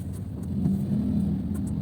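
A car drives on a road in early-morning traffic after rain, giving a steady low engine and road rumble that swells slightly, close and continuous, with no talk.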